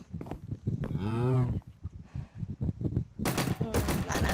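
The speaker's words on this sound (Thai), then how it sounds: "มันยิงปืน มันยิงปืน" A rapid burst of game gunfire near the end follows a cow-like moo and some talking, all close and fairly loud.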